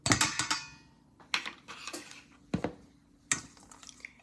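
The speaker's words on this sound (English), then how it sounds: "And then we mix" Flour and baking powder mixed in a bowl with a utensil, sharp clinks and scrapes in short bursts with gaps between strokes, close and clear.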